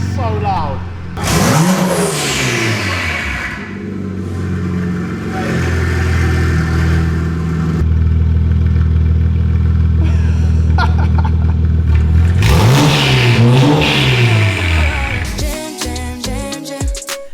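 A straight-piped BMW 135i 1M replica engine revving hard, loud rising and falling blips and a sustained high-rpm roar, close by, with excited voices reacting over it.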